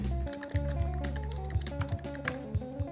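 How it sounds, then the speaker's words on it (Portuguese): Fingers type an SQL query on a computer keyboard, a quick run of light key clicks in an uneven rhythm, close by, over a soft background music bed. "aqui eu vou digitar meu SQL"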